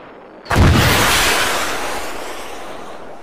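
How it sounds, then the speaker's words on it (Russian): A single heavy artillery blast close by, a sudden loud boom that rolls into a long decaying rumble with no talk over it. "Артиллерия близко, слишком"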